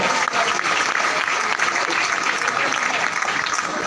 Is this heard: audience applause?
yes